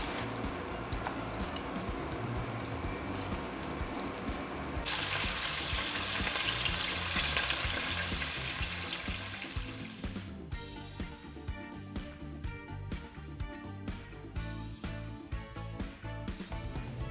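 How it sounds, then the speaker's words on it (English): Smashed potatoes seasoned with salt and pepper frying in olive oil in a skillet, a steady close sizzle that turns brighter midway, then crackles with ticking spatters and stirring. "These are getting smashed flat, drizzled with just a little bit of olive oil, seasoned with salt and pepper, and then they're getting fried in a skillet"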